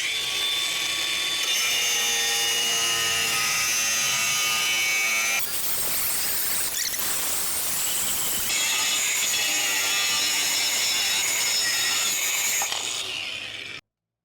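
A compact DongCheng DCSM08-100 cordless mini angle grinder cuts through 4 mm steel plate, giving a loud, continuous high-pitched whine and grinding rasp that runs about fourteen seconds, briefly changing tone midway, then stops abruptly.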